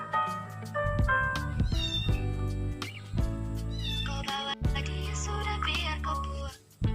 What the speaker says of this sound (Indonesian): abaikan suara kucing di luar